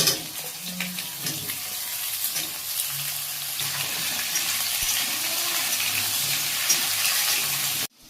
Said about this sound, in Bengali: আলু কুমড়ো তেজপাতা দিয়ে একসাথেই আমি ভাজবো